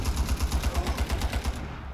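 Rapid hip-fire gunfire from a weapon in the video game Ironsight, a steady stream of close, loud shots in an even rhythm that run almost unbroken and stop just before the end.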